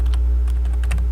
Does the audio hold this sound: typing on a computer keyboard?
yes